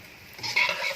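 A spoon stirring cardamom-flavoured vermicelli frying in a pan over low heat, a brief close scrape and soft sizzle lasting about a second.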